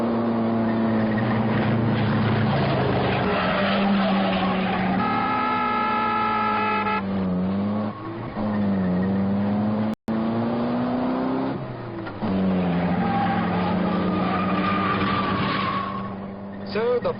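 Rally car descending a mountain at speed during a long-distance event, its engine loud and continuous with rising and falling pitch as it changes gears, over a near-constant roar.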